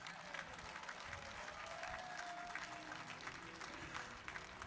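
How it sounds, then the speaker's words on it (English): Crowd applause for the entertainers at a Hawaiian slack key guitar festival, fairly faint and steady across the whole stretch, with distant crowd murmur beneath. "how about a nice round of applause for all of our entertainers who've been here today?"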